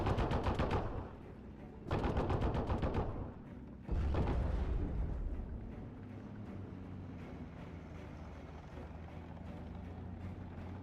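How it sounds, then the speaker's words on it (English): Machine gun fire in the World War II strategy game Steel Division: loud sustained bursts at the start, then another long burst, followed by quieter continuous battle rumble and distant firing. "Can still help use this MG to help suppress the area."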